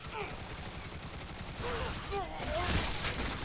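Video game gunfire from Bulletstorm, dense bursts of shots over a low rumbling game mix, with voices and other game effects mixed in.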